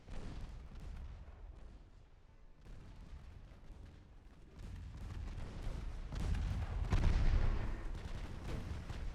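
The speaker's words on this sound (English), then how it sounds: "Just keep shooting at the heavy cruisers." Naval guns firing at heavy cruisers in the warship video game Ultimate Admiral: Dreadnoughts, a stream of booming shots and distant blasts that swells louder toward the end, with no talk.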